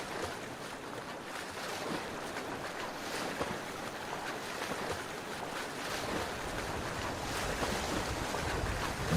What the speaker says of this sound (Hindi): किनारे पर बड़ी चट्टानों से टकराते हुए समुद्र की घुर्राने की आवाज।